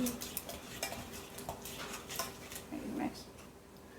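Eggs are mixed in a bowl for brownie batter, a utensil clinking and scraping in quick repeated strokes, close and moderately loud, with faint voices in the background.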